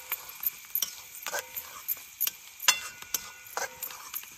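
A spoon stirs turmeric into food in a pan over a wood-fired stove, with soft sizzling and repeated light scraping clicks at an irregular pace, fairly quiet and without talk.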